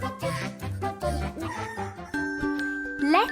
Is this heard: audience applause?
no